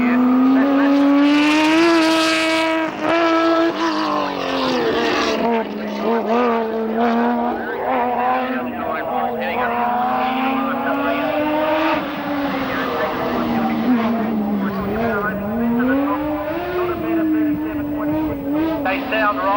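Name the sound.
Holden Commodore race car driving up a hillclimb course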